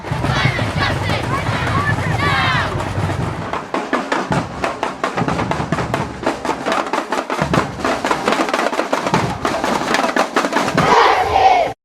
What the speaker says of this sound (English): What would an army of children sound like?